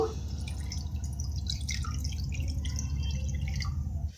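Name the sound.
water poured into a non-stick pan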